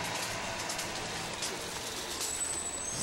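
Rain falls steadily in an artwork installation, a dense continuous patter with no breaks, heard with faint traffic in the background.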